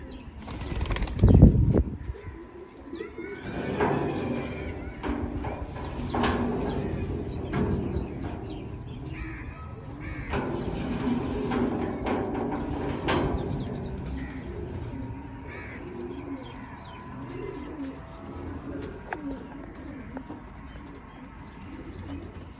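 Flying pigeons flutter and flap their wings in bursts, with soft cooing and scattered chirps, in a quiet, slightly echoey space.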